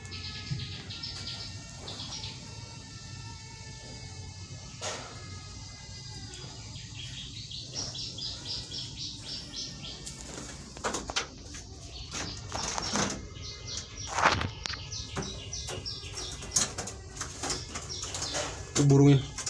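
Ciblek birds in an enclosed breeding cage chirp and trill in quick bursts, with short fluttering wingbeats and knocks, close and fairly loud, while someone talks throughout.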